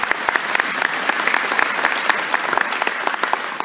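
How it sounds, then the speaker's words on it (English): An audience at an aerospace expo volunteer meeting claps in a full, sustained round of applause, with dense overlapping hand claps throughout. "So you guys give them a round of applause for that."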